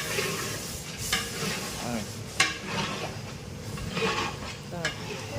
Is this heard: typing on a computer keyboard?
no